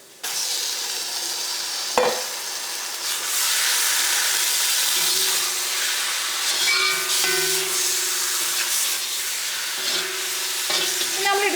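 Chicken pieces go into hot oil in a curry pan for chicken mappas, a coconut milk chicken curry. A loud, steady sizzle and hiss lasts throughout, with stirring and clinks of utensils against the pan.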